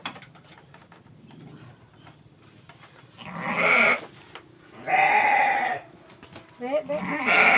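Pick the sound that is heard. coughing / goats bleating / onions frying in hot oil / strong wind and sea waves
goats bleating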